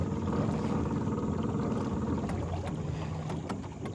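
A 12 volt trolling motor pushes a small boat along at about three miles an hour, giving a steady low hum and water wash with some wind noise throughout, fairly close and fairly loud.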